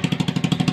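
A Motor Star Nicess 110 motorcycle engine runs steadily at idle with an even, rapid thumping pulse and a slight clatter, close and loud, with no talking.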